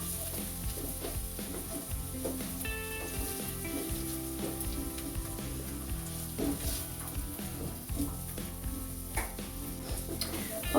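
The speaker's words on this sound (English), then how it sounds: "Now we add the onions. Let these fry off for a few minutes." Onions fry in a pot on the stove for a chicken stew, giving a steady close sizzle and crackle with occasional faint clinks of utensils.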